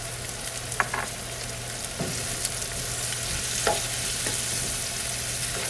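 Corn and green chili fry in a pan for calabacitas, a steady close sizzle broken by a few scraping stirs of the utensil, with no talk.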